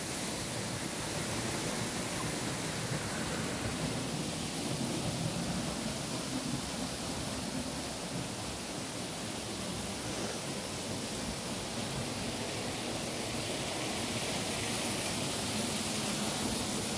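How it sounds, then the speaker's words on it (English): Waterfall at Shanklin Chine on the Isle of Wight, a constant broadband rush of falling water heard fairly close, steady and unchanging throughout with no voices. "Beautiful waterfall."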